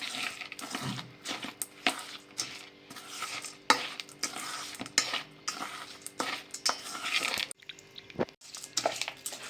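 A spoon stirs suji cake batter with ghee and milk powder in a bowl, scraping and clinking in uneven bursts close by, with no one speaking.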